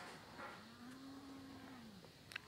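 A cow in Minecraft gives one drawn-out moo, steady and fairly quiet over faint background game ambience, with a small click near the end.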